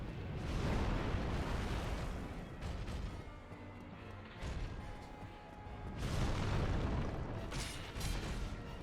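Bomb explosions in Dark Souls land as heavy, rumbling booms in two loud surges with a quieter stretch between them.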